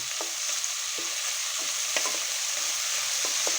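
Tomatoes sautéing in hot oil for a Kongu-style dal rice dish, giving a steady close sizzle broken by a few spoon-scraping stir strokes, with no talking.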